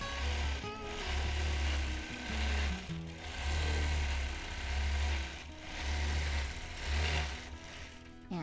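A sewing machine runs in steady bursts during free motion paisley quilting, its needle motor whirring loudly in several surges with brief pauses between, continuing until the bobbin thread runs out.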